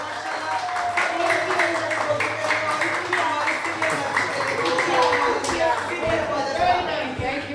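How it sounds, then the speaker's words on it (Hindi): An audience at a community fair celebrating the transgender community gives steady, sustained applause, dense rhythmic clapping that continues throughout with voices mixed in. "एक बार फिर भरपूर तालियां।"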